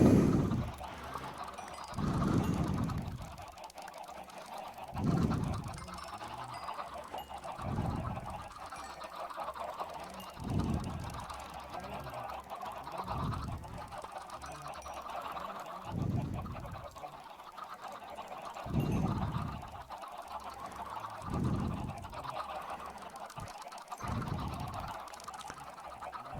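A dense crowd of chickens in the video game Minecraft produce repeated clucks and squawks in irregular bursts every second or two, layered over a busy background murmur.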